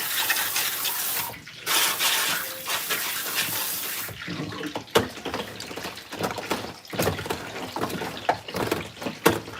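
Fish is rinsed under a running kitchen tap: a steady, close, full rush of water with shifting splashes as the fish is moved through the stream.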